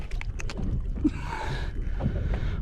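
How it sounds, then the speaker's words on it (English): Rising wind sweeps across the open sea around an offshore fishing boat, a steady rushing blow with faint gurgling water beneath it and no voices. "Wind's starting to come up."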